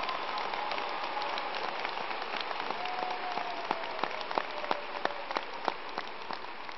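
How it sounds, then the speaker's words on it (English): Audience applause at a 2019 high school graduation ceremony, a steady dense wash of clapping lasting the whole stretch, with a few sharper individual claps standing out toward the end. "Let's give these who have played such a significant role in our academic program this year a big round of applause."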